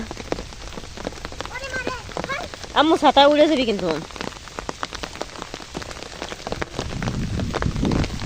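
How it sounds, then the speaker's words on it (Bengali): Rain patters steadily onto a street of dry sand and brick, a dense, continuous hiss throughout while people talk nearby. "কি বৃষ্টিটা নামতেছে"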